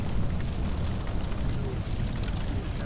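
Siege bombardment in Rome: Total War pounds a burning city in a continuous, dense rumble of distant explosions and crackling fire, with no clear gaps between the blasts.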